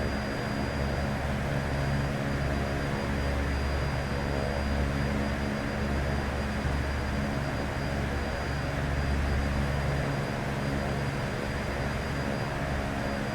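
Embraer 110 twin-turboprop approaching Logan International airport in the X-Plane 10 flight simulator, a constant loud droning propeller and engine hum with a steady low rumble and a faint whine, unbroken throughout.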